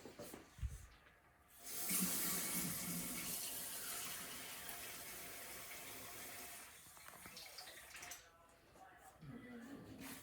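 A kitchen tap runs water into a cup for an Italian manicotti recipe, with a steady hissing stream for several seconds that starts and stops cleanly, and faint handling sounds around it.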